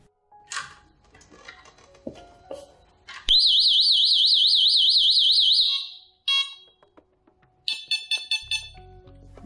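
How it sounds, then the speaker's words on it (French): A Delta Dore Tyxal+ wireless home alarm siren gives a loud warbling electronic tone for a few seconds, then a short pause and a rapid series of sharp exit-delay warning beeps, heard alone indoors after some light handling clicks. "Ce bip intervient à la fin de votre délai de sortie"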